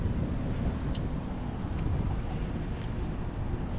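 Wind buffeting the microphone in a continuous low roar, steady and fairly loud throughout, with a few faint clicks.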